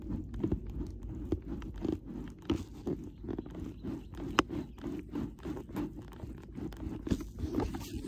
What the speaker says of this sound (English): it's kind of like a crunching sound that the helmet makes as you wear it